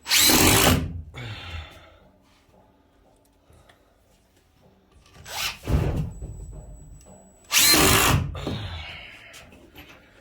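A power drill drives screws while a skoolie window is installed, in two loud bursts near the start and end with a shorter whir in between, close by and without speech.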